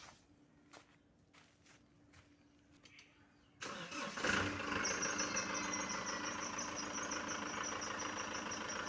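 A 2017 Tata truck's engine starts after soft footsteps and then runs loud and steady close by, with the accelerator pressed to raise the revs.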